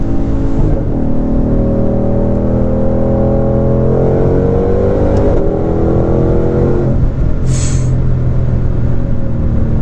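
A 2020 Ford Mustang Shelby GT500 accelerates on the highway in fourth gear at light throttle, its engine droning loud and steady with rising harmonic tones throughout, heard from inside the car.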